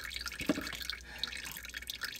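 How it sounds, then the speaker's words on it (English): Engine oil from a Subaru STI drips from the drain plug into a drain pan, a few soft, close drips over a quiet background. "I'll drip some oil. Wait for that to run out."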